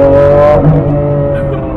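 A Lamborghini Aventador engine in Miami Beach holding a high, tonal rev that drops off midway, then settling into a lower rumble, close and loud.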